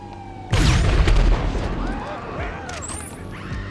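A railgun fires in GTA Online, and a sudden loud blast erupts into a booming explosion that rumbles and crackles before slowly fading.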